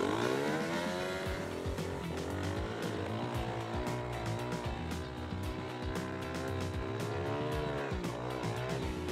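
Small Suzuki 50cc kids' quad bike revving hard while pulling wheelies and sliding into skids, a buzzy two-stroke-style engine note rising and falling continuously across the whole stretch, fairly close with no talking.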